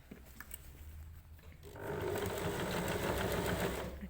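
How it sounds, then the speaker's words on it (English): A sewing machine runs steadily, stitching a bag seam close by, its rapid even whir rising after a quieter stretch of faint handling noise. "Pop it in place and you can stitch it together."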